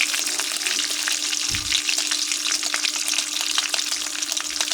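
Small fish fry in hot oil with a steady, dense crackling sizzle that stays loud and close throughout, broken by a brief low clunk near the middle, with no talking.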